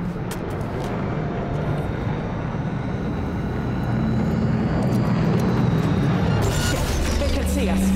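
A drone in Cyberpunk: Phantom Liberty passes overhead, a continuous loud engine-like drone and rumble that swells over the seconds, with game voices talking over it.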